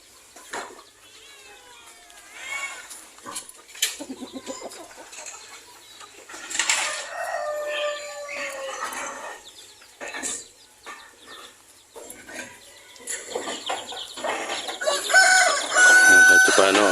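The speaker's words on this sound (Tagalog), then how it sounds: "Ito baka mangitlog to, well. Nag-aalongkat siya dun, Toto." Chickens on a small backyard poultry farm, with a hen clucking repeatedly around laying time, rooster-like crowing and other fowl calls rising and falling at close range, growing louder toward the end; faint voices mix in.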